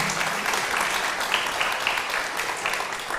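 Audience applause following a speaker's talk, a steady crackle of many hands clapping at moderate loudness with no break.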